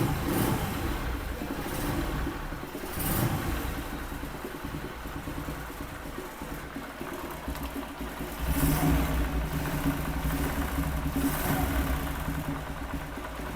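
A TVS Apache RTR 160 motorcycle engine, just reassembled after a full engine fitting, runs steadily at idle with a couple of brief revs rising and falling, close and loud, with no talk.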